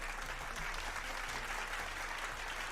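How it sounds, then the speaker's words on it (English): Steady, even applause that stays faint and distant, a continuous wash of many hands with no voices over it. "Applause."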